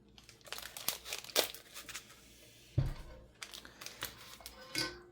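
Plastic packaging on a decorated cookie bag is sealed and the excess trimmed off, with close, irregular bursts of crinkling and rustling broken by one dull thump midway.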